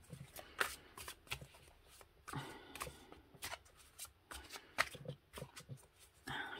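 Oracle cards are shuffled close up, a series of quick riffling and flicking bursts with short pauses between them, fairly quiet.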